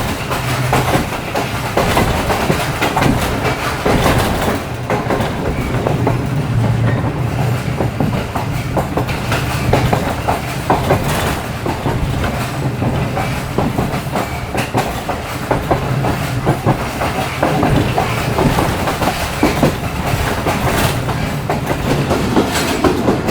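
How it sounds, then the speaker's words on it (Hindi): The Jaffer Express passenger train, between Jacobabad and Rohri, clatters loudly along the tracks with a steady clickety-clack of wheels over rail joints, close and continuous, with no talking. "मज़ेदार ट्रैक साउंड के साथ ट्रेन हमारी आगे बढ़ रही है भाई"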